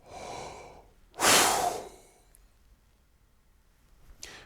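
A long, continuous exhale during a breathing exercise, loud and breathy for about a second then tapering off, preceded by a softer breath and followed by a brief intake near the end, with no talking.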